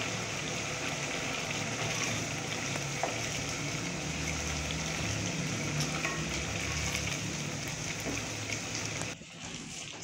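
Pumpkin halwa bubbles and sizzles in a pan while a spoon keeps stirring and mashing it. The soft, continuous frying texture is low in level and carries light scraping, then drops away near the end.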